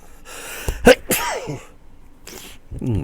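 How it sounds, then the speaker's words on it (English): A single sharp sneeze near the microphone, followed by brief quiet breaths and a little voice afterward. "Sneezed."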